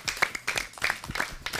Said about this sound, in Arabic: يلا صفقوا حق مشعل الثاني